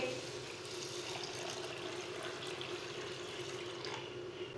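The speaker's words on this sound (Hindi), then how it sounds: "इसमें पानी डाल लेंगे।" Steady water pouring into a bowl of lentils, a continuous rushing splash, fairly faint and unbroken throughout.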